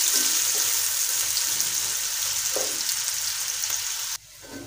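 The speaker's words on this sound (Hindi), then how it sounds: "तो अब हम इसमें ये प्याज है, तकरीबन 2 मीडियम साइज़ के प्याज है, जिन्हें मैंने स्लाइस में इनकी मैंने कटिंग कर ली है। प्याज को हम लाइट ब्राउन करेंगे।" Two medium onions, sliced, sizzle steadily while frying to a light brown in a pan for biryani. The frying is close and continuous, with a brief stir midway, then drops abruptly quieter near the end.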